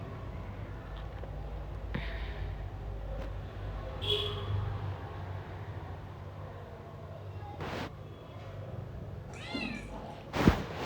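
A cat meows a few faint times near the middle and end, over a low steady hum in a quiet home.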